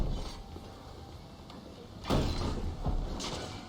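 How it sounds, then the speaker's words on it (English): A heavy door in an Assassin's Creed Valhalla river raid being forced open, a soft mechanical grinding followed by two louder scraping thuds about a second apart, fairly close. "We're gonna need a hand here to open up this door."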